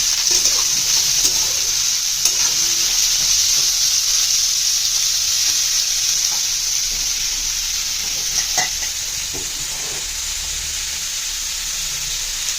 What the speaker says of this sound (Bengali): এইটার এটার মধ্যে পেঁয়াজ গাজর স্প্রিং অনিয়ন বিনস আর বাঁধাকপি সব কিছু দিয়ে একটু ভাজা ভাজা হয়ে গেলে ডিমটা দিয়ে ভেজে নামিয়ে নেব